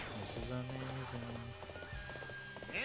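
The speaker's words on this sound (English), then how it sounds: "Here's our horse." In Dynasty Warriors 8 Empires, a horse's galloping hoofbeats clatter in quick rhythm amid battle noise, with a whinny rising near the end, all fairly loud under someone talking.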